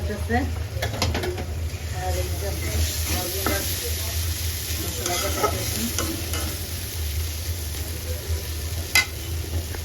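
Goat mutton being sautéed down in a pan, with a steady sizzle and frequent stirring and scraping of the spoon against the pan, loud and close throughout, no talking.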